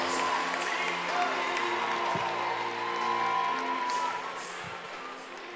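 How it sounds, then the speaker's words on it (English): Crowd applause and cheering at a boxing event, a steady wash of clapping from a large audience filling the hall, with scattered whoops, tapering slightly toward the end. "how about a well-deserved round of applause for both our ring warriors?"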